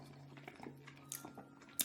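Almonds eaten with Prairie Tomme cheese are chewed close up, giving a run of soft crunches and wet mouth clicks in an irregular rhythm, fairly quiet, with no speech.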